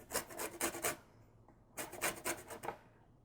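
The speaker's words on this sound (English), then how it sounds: "A little bit of lemon zest, just enough to fragrance it." A lemon is rubbed over a fine zester for a vegan cauliflower cream, making two short bursts of quick, soft rasping strokes close up, separated by a brief pause.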